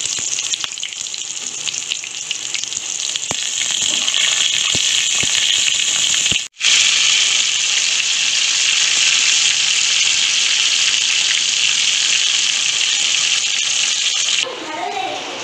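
Stuffed pointed gourd (potol) filled with paneer frying in hot oil on a gas stove, a loud continuous sizzle with a brief dropout midway and a few light clinks, no voices over it.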